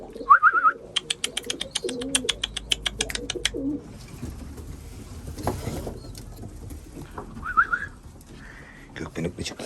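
Gökbenekli pigeons coo in a loft with soft, throaty calls, mixed with fluttering and rapid patter from the birds. A voice speaks at moments nearby.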